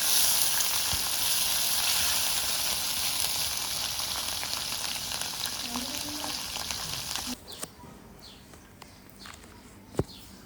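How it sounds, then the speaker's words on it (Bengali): Dried Phewa fish shutki fries loudly in hot oil, a dense steady sizzle close up, then the heat drops sharply and only faint crackles, light stirring and a sharp knock remain. "আমি ভালো করে ভেজে নিচ্ছি।"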